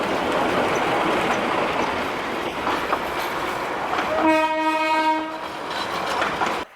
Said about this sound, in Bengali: তো অলরেডি তার যে হুইসাল, ট্রেনের যে হুইসাল সেটা শুনতে পাচ্ছি।